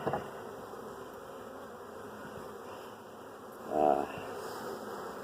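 Honey bees buzz steadily at a hive that is preparing to swarm, a continuous near drone that swells briefly louder midway, with no voices.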